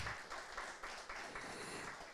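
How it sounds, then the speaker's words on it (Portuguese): Faint, steady applause from a seminar audience, a continuous patter of clapping at moderate distance with no voices over it. "Palmas para o Lucas."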